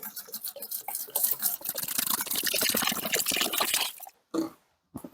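A gallon of water pours into a container holding a coconut coir brick, a steady splashing gush that cuts off abruptly near the end, followed by brief trickles and silence.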